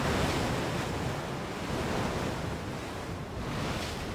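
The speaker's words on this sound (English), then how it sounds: "This location is very loud because there are waves splashing off of the rocks all around us" Ocean waves splash against rocks around a storm tower in the video game Everquest 2, a loud continuous wash of surf and wind with no break and no talking.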